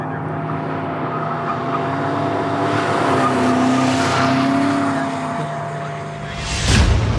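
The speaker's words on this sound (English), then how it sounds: "We have commenced drifting." 2018 BMW M5 drifting during a world-record long-distance drift attempt, a steady loud engine roar with wavering pitch as revs rise and fall, close and continuous, ending in a brief rush of noise.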